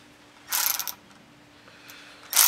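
A wrench drives threaded body bolts home into a truck core support, heard as a close, sharp burst of ratcheting clicks lasting about half a second, a faint tick later, then another burst starting at the end.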